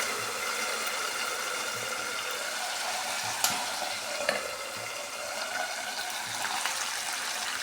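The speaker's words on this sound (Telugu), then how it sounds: "కరివేపాకు వేసుకున్న తర్వాత చిల్లుతుంది అనమాట." Curry leaves splutter in hot oil under a lid in a home kitchen, making a muffled, steady sizzle with a few sharper pops, heard fairly faint and close.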